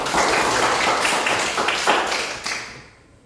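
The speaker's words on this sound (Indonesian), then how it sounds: "Baik, kita berikan aplaus buat teman." A classroom of students clapping for a classmate, a dense burst of close applause lasting about three seconds before trailing off.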